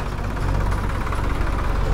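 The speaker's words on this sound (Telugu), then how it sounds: "ట్రాక్టర్స్, జేసీబీ ఉన్నాయి" Tractor and JCB engines run at a work site near the Yana Caves, giving a steady, loud, low mechanical rumble with an even knocking pulse throughout.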